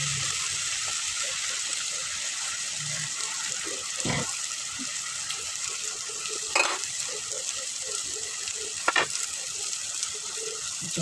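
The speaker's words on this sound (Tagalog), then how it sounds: "Kaya gigisa ko lang siya dyan." Chicken sautéing in a pan for kinamatisang manok, a steady close sizzle and frying hiss with occasional stirring clinks and scrapes, heard alone without talk.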